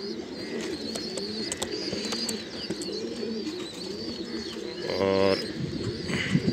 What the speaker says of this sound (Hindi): ये हैं मोती वाले कबूतर,